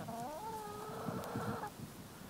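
A chicken gives a drawn-out, warbling cluck lasting over a second, followed by softer low clucks from nearby hens. No talking.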